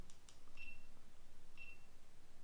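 A GoPro Hero camera on self-timer gives two short, faint electronic beeps about a second apart, with a couple of light button clicks before them in a quiet room.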